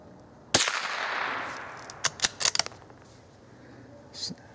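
.22 Short rounds fired outdoors from a bolt-action Remington rifle: one sharp crack with a long decaying echo, followed by a quick cluster of several lighter mechanical clicks and snaps, then a faint later click.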